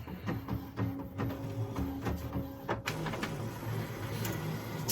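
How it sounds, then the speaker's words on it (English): Epson WF7720 inkjet printer feeding paper and running a test print after cleaning, with clicks, a steady mechanical whir and sharp printhead strokes over about five seconds, close and moderately loud. "Pulling some paper in finally and doing a test print."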